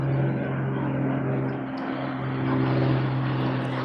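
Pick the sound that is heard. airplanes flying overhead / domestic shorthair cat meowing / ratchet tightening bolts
airplanes flying overhead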